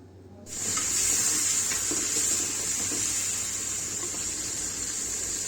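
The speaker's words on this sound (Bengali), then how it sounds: "দিয়ে আমি পেঁয়াজের সাথে চিংড়ি মাছের সাথে ভালো করে ভেজে নিচ্ছি।" Prawns fry with onions in a pan for a bitter gourd stir-fry. A steady, bright sizzling hiss starts abruptly and carries on evenly and close to the end.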